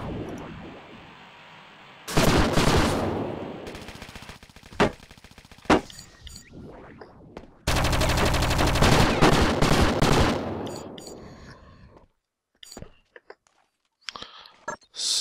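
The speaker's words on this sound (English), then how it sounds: "let the sentry gun deal with this" A sentry gun in the video game Project Eden fires two sustained loud bursts of rapid automatic fire, separated by a few isolated shots, followed by scattered quieter impacts.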